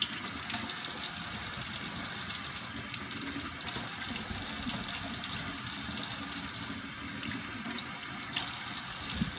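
Water runs steadily from a tap into a sink while sugar is washed by hand from inside a pot, a constant close splashing rush with small surges.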